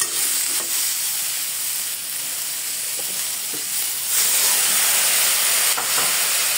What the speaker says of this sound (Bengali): এখানে এখন লবণ দিয়ে দিব, দিয়ে একটু নেড়ে চেড়ে নিই